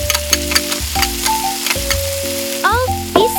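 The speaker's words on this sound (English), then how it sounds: "Cook and stir the spices until they are thoroughly combined in the pan." Spices and squid sizzling in a miniature kitchen pan while being stirred, a steady loud frying hiss with scraping stir strokes, close up and continuous, with some tonal ringing throughout.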